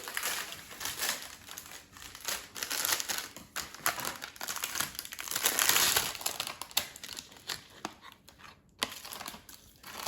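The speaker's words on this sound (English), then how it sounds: "So let me open the package. And let's take stromboli out of its packaging." Plastic packaging around a frozen stromboli crinkles and crumples in repeated rustling bursts, close and fairly loud, with no talking.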